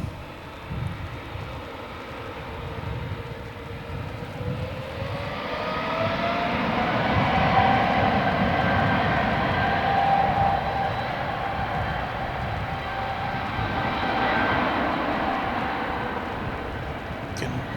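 An airliner climbing out from Dallas/Fort Worth Airport at night, bound for Doha, gives a broad, steady jet roar that swells over several seconds and holds as the aircraft passes, with a faint tonal whine riding on top.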